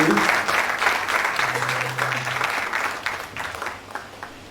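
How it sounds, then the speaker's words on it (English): Applause from a university conference audience at a dentistry faculty event, dense clapping from a hall full of people that holds steady for several seconds, with a few voices under it. "Another round of applause for our VC."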